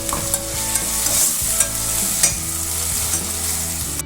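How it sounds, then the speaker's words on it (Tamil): Tomatoes sautéing in a pan for Kumbakonam-style kadappa, with a steady close sizzle and repeated scraping stirs of a spoon against the pan throughout, with no talking. "இப்போ தக்காளி நல்லா வதங்கிடுச்சு"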